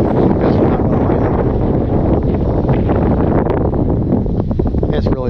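Strong wind at an RC flying field roars and buffets the microphone in a constant, loud rush with gusty surges throughout.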